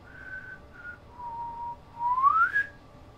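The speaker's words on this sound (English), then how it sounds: "Oh man, you like my whistling skills? I can only whistle breathing in." A person whistles a few wavering tones, alone and fairly close, with short held notes followed by a rising sweep.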